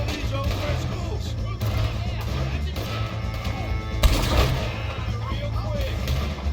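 Gunfire in a Red Dead Redemption 2 shootout with O'Driscoll gang members, dense continuous crackle and booms under a steady low rumble, with a louder burst partway through and voices in the mix.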